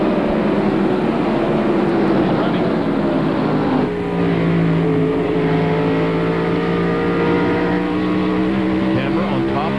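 NASCAR stock cars racing at Bristol in 1995, including Earnhardt's Goodrich Chevrolet, a continuous loud roar of engines with shifting pitch as cars pass, with crowd noise underneath.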